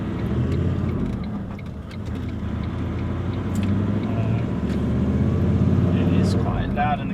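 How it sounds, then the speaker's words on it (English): A Toyota Landcruiser 70 Series with a 4-inch twin exhaust idles, its steady low engine drone and cabin rumble filling the interior at a constant loud level, with voices talking over it. "Quite loud in the cabin. I think that's got to do with the motor."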